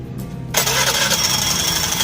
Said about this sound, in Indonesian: pokoknya nanti langsung hidup mesinnya ya